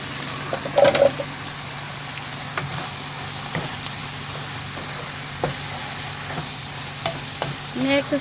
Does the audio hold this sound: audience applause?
no